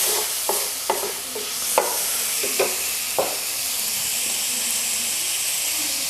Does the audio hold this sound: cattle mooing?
no